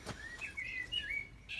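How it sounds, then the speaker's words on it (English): Birds singing on a warm, quiet evening by a fishing boat under restoration, several clear chirps and short whistled phrases at moderate distance over faint ambient noise. "so you can hear the birds"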